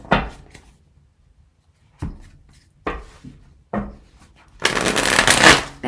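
Tarot cards are shuffled in several short riffling bursts separated by quiet gaps, ending in a longer, louder continuous flutter of cards close by.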